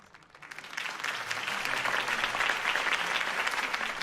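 Crowd applause after Harvey Dent's campaign speech, starting soft and swelling within the first second into a full, steady ovation from many hands that holds to the end.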